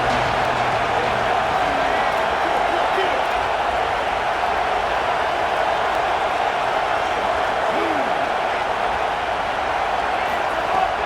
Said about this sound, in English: Here comes the noise from this big crowd in Happy Valley on 3rd down